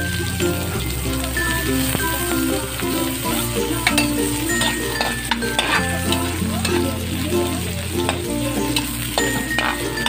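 Garlic and onion sizzle steadily in a hot pan for bitter melon with egg, with a constant crackling fry and occasional stirring scrapes, close and fairly loud, under faint background music.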